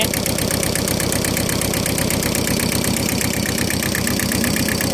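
A Kubota L1501 tractor's diesel engine runs steadily at idle, loud and close, with a constant rapid knocking rhythm and no pauses.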